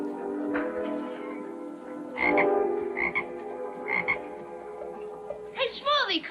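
A frog croaks in a 1956 Annie Oakley western TV episode, with a run of rough, throaty croaks in uneven bursts, ending in a louder rippling call, clear and close with no talk.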